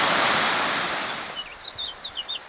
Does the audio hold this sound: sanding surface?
no